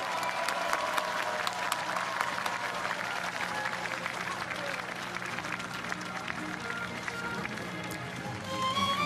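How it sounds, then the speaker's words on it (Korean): Large crowd at a centennial commemoration ceremony breaks into sustained applause, a steady dense wash of clapping that fills the space throughout without pause. "여러분 다시 한번 큰 박수 부탁드립니다."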